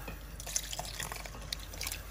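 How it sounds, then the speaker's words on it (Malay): Water trickles and drips in small, irregular splashes as it is added little by little to dissolving palm sugar being stirred for talam gula merah. "Air kita letakkan sedikit demi sedikit."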